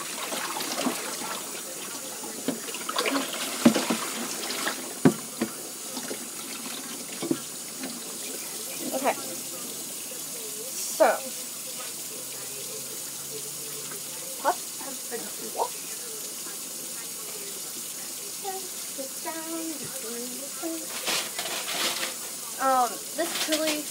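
A kitchen tap runs steadily and quietly into a sink while pots and pans are washed. Scattered clinks and knocks of cookware come through the flow.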